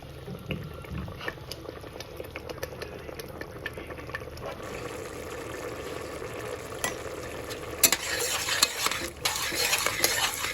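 Peas and spices cook in a pan of mustard oil, with a spoon scraping and stirring repeatedly against the metal over a steady low sizzle, close and fairly quiet, with no voices.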